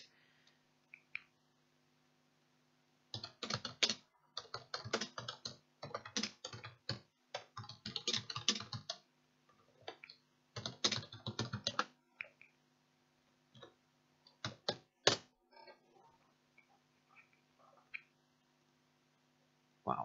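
Someone types on a computer keyboard during live gameplay, with close, crisp key clicks arriving in irregular bursts and flurries separated by quiet pauses.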